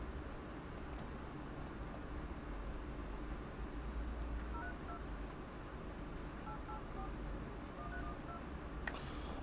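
DTMF keypad tones from a phone dialing a boxing club's number, a faint series of short beeps spread through a steady wash of background noise, with no talking.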